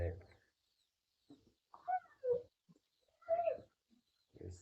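Meat bird chickens, a flock of about two dozen in a pen, give short scattered clucks and soft calls in a quiet setting, with brief gaps of silence between bursts.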